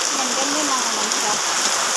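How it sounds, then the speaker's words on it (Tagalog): Heavy rain pours down steadily in a dense, loud, even hiss of drops hitting surfaces, with no break and nobody speaking. "lumakas ang ulan talaga"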